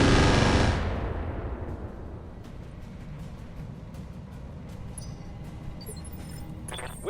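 Heavy mech weapons fire in the Roguetech mod of BattleTech: a loud burst opens the clip and fades over a second, and a dense rumbling battle bed with scattered sharp impacts and clinks follows.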